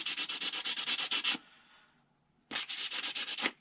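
A putter shaft is hand-sanded to rough it up, giving rapid, even rasping strokes in two close bursts with a short quiet pause between them.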